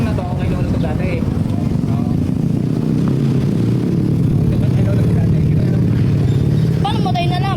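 A motorcycle engine runs with a steady low rumble at a cattle trading market in Padre Garcia, held close and loud under people talking throughout.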